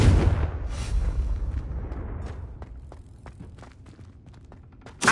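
Confringo fire spell blast in Hogwarts Legacy, a loud booming burst at the start that rolls off into a long fading rumble with scattered thuds and crackles, then another sharp hit right at the end.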